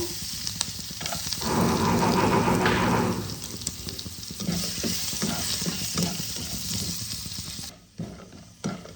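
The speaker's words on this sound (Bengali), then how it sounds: "এবার আমি আমন্ডগুলোকে ভেজে নেব" Almonds fry in a pan for rice kheer, giving a steady sizzle and stirring scrape that swells loudly early, then continues more softly before a brief pause near the end.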